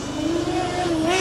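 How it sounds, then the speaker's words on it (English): A Formula Student combustion race car pulls away at the start of its endurance run, its engine holding a steady rising tone nearby. "You could probably hear Stuttgart take off for the second half of their endurance run from behind me."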